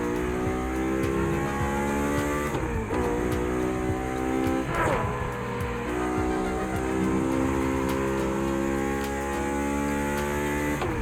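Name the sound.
RX-7 car driving in video game The Crew Motorfest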